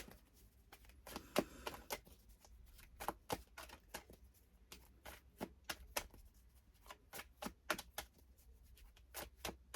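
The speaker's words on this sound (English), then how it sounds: "I'm going to give them one more shuffle" Tarot cards being shuffled by hand, a steady run of crisp riffling snaps and soft slaps close by, uneven in rhythm, with no talking.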